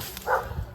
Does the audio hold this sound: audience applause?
no